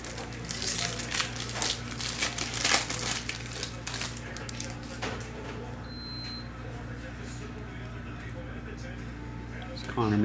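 An Upper Deck O-Pee-Chee Platinum hockey card pack is torn open with sharp crinkling and tearing of the foil wrapper, busy and close at first, then settling into quieter rustling with someone talking over it.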